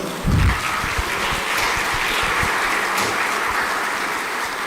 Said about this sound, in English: Can we please have a huge, huge round of applause for them?